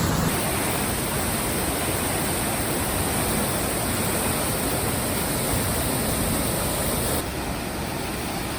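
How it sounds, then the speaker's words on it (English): A waterfall on the Milford Track in New Zealand roars as a dense, steady rushing wash, loud and close throughout, easing slightly near the end. "Evidence made by this amazing waterfall right behind me."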